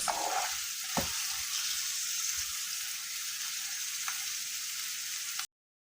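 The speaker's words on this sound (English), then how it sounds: "add little oil in a pan and saute the chopped onions until slightly translucent" Chopped onions saute in a little oil in a pan for a beef samosa filling, giving a steady, close hiss of sizzling with a brief knock of stirring near the start, alone without speech.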